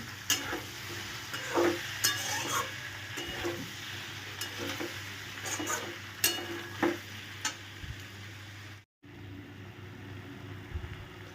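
Sago being stirred gently in a frying pan: a soft, continuous sizzle at low volume with repeated light scraping taps, a short dropout near the end, then the frying resumes.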